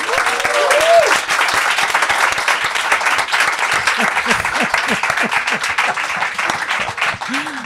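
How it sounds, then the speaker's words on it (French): A comedy podcast audience gives a thunderous round of applause for comedian Redouane Arjan, dense sustained clapping throughout with a few cheers and voices mixed in. "faites un tonnerre d'applaudissements pour Redouane Arjan"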